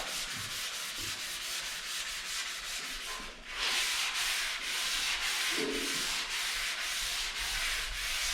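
A car body is dry-sanded by hand with 320 grit paper, a continuous close scratchy rubbing with rhythmic back-and-forth strokes and a brief dip partway through.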